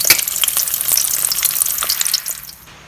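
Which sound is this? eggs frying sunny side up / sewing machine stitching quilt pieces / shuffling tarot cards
eggs frying sunny side up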